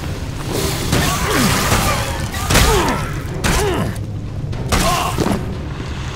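Shots fired in the video game Risen 3 land as a series of heavy booms and thuds, roughly one per second, with whooshing sweeps mixed among them.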